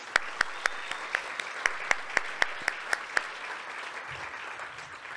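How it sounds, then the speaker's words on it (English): A small audience at a mid-year budget speech breakfast at a country club gives a brief round of applause, heard as a series of about a dozen sharp, evenly spaced claps that fade out. "I actually want a big round of applause for Denver for a change."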